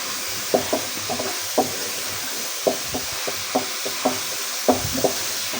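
Spaghetti frying and being stirred in a pan, with soft sizzling under a run of irregular knocks and scrapes from a utensil against the pan, close and moderate in level with no talk.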